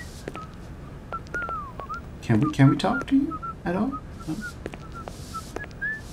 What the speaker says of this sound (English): The game leaves us with this whistling guy, and we cannot even make him stop.